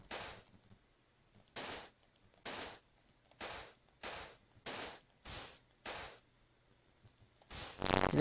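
TNT cannon in Minecraft firing repeatedly, a series of about nine sharp, loud blasts spaced roughly a second apart with near silence in between.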